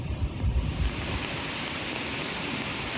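Flooded creek in Santa Cruz County carrying tree debris, a steady, loud rush of water with a rumbling low end throughout.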